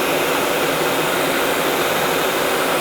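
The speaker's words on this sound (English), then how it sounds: "So I've got a heat gun here." A heat gun blows a steady, loud hiss with an airy motor whine, running continuously and unchanging, close by, while shrinking heat shrink tubing.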